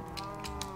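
A cow in the video game Minecraft gives a single short, low moo, close and clear against a steady background hum.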